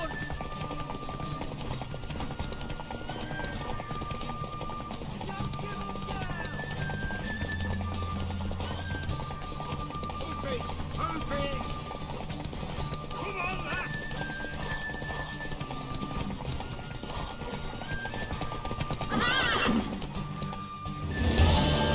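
In The Witcher 3 video game, a horse's hooves clip-clop in a steady galloping rhythm and a neigh rings out, under constant dialogue and a background music bed.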